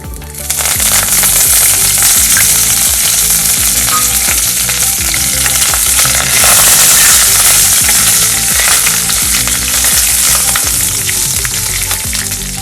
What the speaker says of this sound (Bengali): এগুলো ভাজা হয়ে গেছে